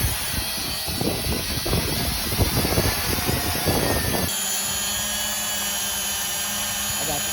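A Ruko U11 GPS drone on auto takeoff, its propellers spinning up to a steady, close whine that holds level, first under a burst of rustling and handling noise and then alone.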